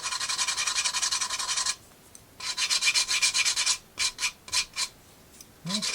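Hand rubbing finish into a surface on a DIY light box, a long steady rasping stroke, a short pause, then a longer sustained rub followed by several short rhythmic strokes, close and clear.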